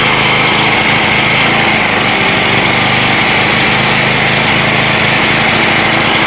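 A small gasoline motor, generator or lawn mower type, running on gas fumes alone: a loud, steady, high-revving buzz close by with constant vibration and no talking.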